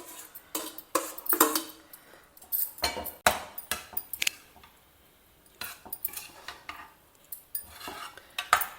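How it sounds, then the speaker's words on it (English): Cooked, cooled rice being added to tamarind paste in a kadai and mixed in, with a metal spoon scraping and clinking against the pan in rapid, uneven strokes and a brief lull near the middle, close up. "Now we will add this cooked and cooled rice to this."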